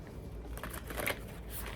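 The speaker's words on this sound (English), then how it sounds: "I'm going to shuffle a little bit more because I like to do that." Tarot cards being shuffled up close, a soft continuous riffling and flicking with a brief louder patch midway, no talking.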